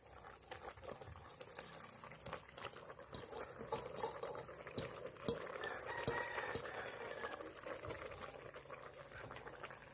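A Thai northern-style banana stem chicken curry bubbles in a pot, a soft, steady blub and popping of simmering liquid heard close and faint, with no talk over it.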